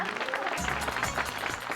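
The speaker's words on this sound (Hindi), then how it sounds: "तालियां तालियां।" Brief burst of audience clapping in a sitcom setting, loud and dense for under two seconds, with a voice briefly audible beneath it.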